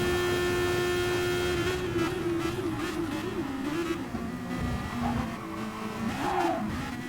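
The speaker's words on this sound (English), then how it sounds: "can hear those tyres squealing" Car tyres squeal through a chicane in a Gran Turismo Sport Super Formula race at Spa-Francorchamps, a sustained wavering whine layered over constant engine drone at moderate volume.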